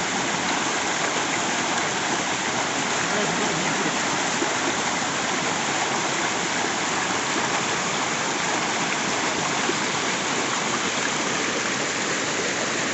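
Water of a mountain stream on a Himalayan trek, rushing in a steady, loud, unbroken wash that fills the whole scene without any voices.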